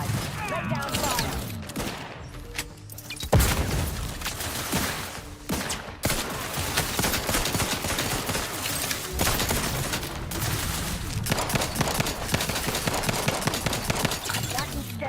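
Sustained video-game gunfire in The Outer Worlds 2, dense bursts of rapid shots and impacts layered over music and effects, loud and continuous, with a synthetic game voice speaking over the fight.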